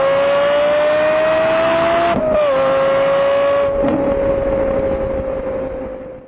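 A Formula 1 race car engine screams at high pitch, holding a steady note, then dipping briefly at a gear change before carrying on at a slightly lower tone and fading toward the end, loud and unaccompanied by talk.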